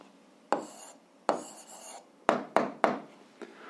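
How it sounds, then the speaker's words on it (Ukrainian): Someone writing out the answer to an algebra exercise, giving a handful of short, close, scratchy strokes at irregular intervals, alone without talk. "Ну що ж, записуємо відповідь, пишемо відповідь."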